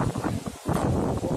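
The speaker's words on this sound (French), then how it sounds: "Là, il y a un petit coup de vent qui se lève." A gust of wind on an outdoor street at the Avignon festival, buffeting the microphone in loud rough bursts with a brief lull partway through.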